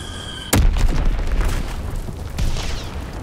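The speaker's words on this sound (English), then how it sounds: "Blitz-X bomb is on the wing." Bomb blast in Call of Duty: WWII, a sudden heavy boom that cuts in loud after a moment of steady background hum, then rolls on as a long rumbling tail with a second swell near the end.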